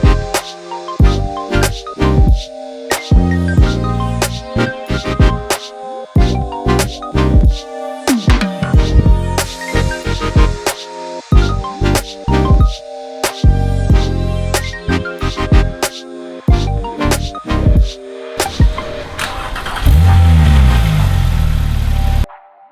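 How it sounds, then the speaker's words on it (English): A Porsche 997.2 Turbo S engine with a sport muffler exhaust revs repeatedly in loud, close bursts, dropping back to idle between blips, then settles into a sustained rumble near the end. "sport muffler, it sounds definitely better, like way better than stock."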